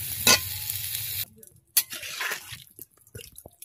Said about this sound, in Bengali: আমি কষিয়ে এরপর আমি পেঁপে দিয়ে সুন্দর করে আবার কষিয়ে নিচ্ছি।